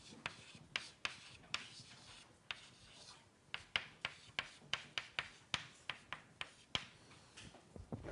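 Marker or chalk strokes on a lecture-hall board as an email address is written out, a quick, irregular series of sharp scratchy taps and short rubs, close and clear with no talking.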